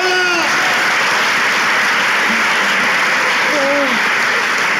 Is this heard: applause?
yes